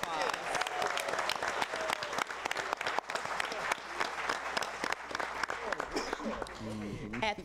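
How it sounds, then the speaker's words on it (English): Audience applause for Henry, the moderator of a Michigan Department of Education panel event, brisk crowd clapping throughout, with voices speaking over it toward the end. "our moderator, a big round of applause."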